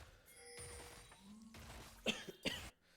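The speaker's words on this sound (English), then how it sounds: "Excuse the coughing." Two or three quick, sharp coughs close to the mic after a quiet stretch, the last ones louder and abrupt.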